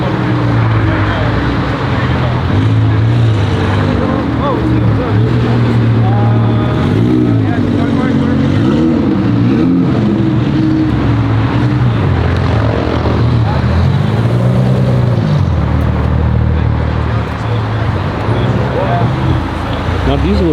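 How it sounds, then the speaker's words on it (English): An Audi R8 rolls into a busy Los Angeles car meet, its engine a loud, continuous rumble with rising and falling revs amid crowd noise and other cars, with people talking throughout. "About an R8 pulling in right now"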